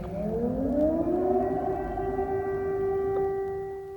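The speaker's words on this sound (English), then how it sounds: "Every 2 or 3 hours there are being sirens" A loud civil-defense siren wails steadily, its tone rising and then holding a long sustained pitch, with no voices.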